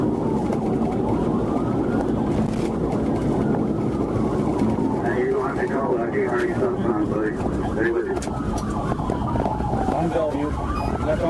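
A police car siren wails in rising and falling sweeps during a high-speed pursuit, over loud engine and road roar, with muffled radio-like voices partway through.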